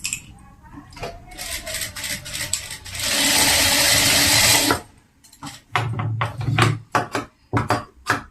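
A sewing machine stitches fabric in a handicraft workshop, with a sustained burst of fast mechanical whirring between scattered clicks and taps.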